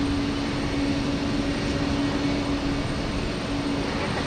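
A United Boeing 737-800 bound for Portland at Houston Intercontinental, heard as a steady, moderately distant jet roar with a sustained tonal whine, alone without voices.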